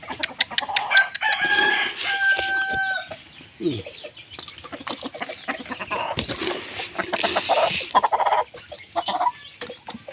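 A chicken crows and clucks repeatedly nearby, with steady clucking bursts and a drawn-out crow early on.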